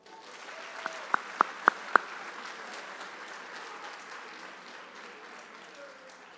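A crowd at a senior awards ceremony claps for student honorees, a steady spread of applause with a few louder, nearby claps standing out early on, then settling into an even, moderate wash.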